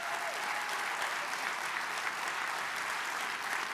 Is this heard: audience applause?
yes